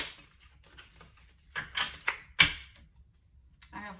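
Worn tarot cards with holes in them are shuffled by hand, giving a few soft, irregular riffling and slapping bursts spread over a few seconds against a quiet room.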